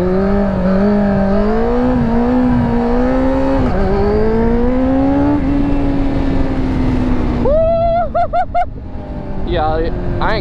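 A Yamaha YZ450 dirt bike being ridden, its engine revving in long rising and falling sweeps, loud and close, with throttle bursts and a brief engine note shift near the end.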